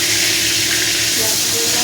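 A bay leaf hits hot oil, giving a loud, steady, close sizzling hiss that fills the whole short moment.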